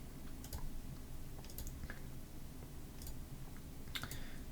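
Quiet, scattered clicks of a computer keyboard and mouse while lines are selected in a sketch for a pumpkin Halloween project, a few sharp taps spread over a low steady background hum.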